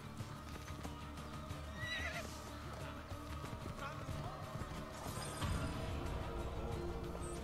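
Horse in Assassin's Creed 2 gameplay whinnying amid clip-clopping hooves, with game music and effects layered over it, the hoofbeats continuing steadily.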